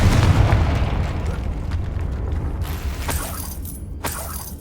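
A Confringo fire spell bursts in Hogwarts Legacy, a loud, sustained explosive rumble with crackling debris that slowly fades over several seconds.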